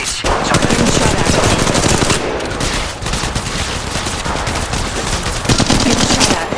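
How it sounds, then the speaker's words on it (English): Loud, sustained automatic gunfire from the mobile battle royale game Apex Legends Mobile, with rapid bursts of shots in close succession filling the whole stretch and no pauses for talk. "Getting shot at. Contact. Battling the enemy. Shots fired at me."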